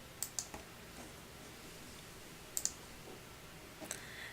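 A few light, quiet clicks of a computer mouse in software setup, coming in small pairs at spaced intervals against a faint room hiss, with no talking.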